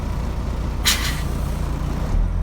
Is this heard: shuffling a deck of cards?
no